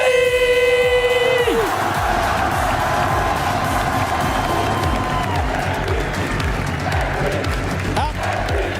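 A crowd at a VALORANT esports match between Gentle Mates and NRG cheers and applauds loudly and continuously after a held musical tone fades, with a voice speaking over the noise.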